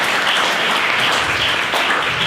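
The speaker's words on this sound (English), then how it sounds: "round of applause." Loud, continuous audience applause for a self-taught graphic designer at a talk, many hands clapping in a dense, sustained wash with no speech over it.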